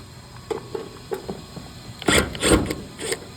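Small screws being backed out of a ballast in a Solar Wave/Solar Storm tanning bed, a few faint metallic ticks and scrapes followed by a louder clatter as the ballast is freed.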